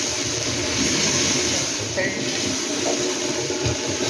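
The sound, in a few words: water sprinkled on a hot tawa for semolina dosa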